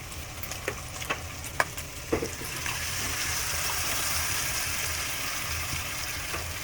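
Coconut milk is poured into a pan of simmering tuna and pork, a few clinks and scrapes of a utensil followed by a steady bubbling, sizzling wash of liquid as it heats.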